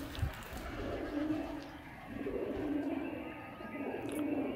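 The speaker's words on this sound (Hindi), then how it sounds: "कबूतर है इसके अंदर" Soft, low pigeon coos repeat in a steady murmuring rhythm inside an old mansion, with several birds overlapping against a faint background hum.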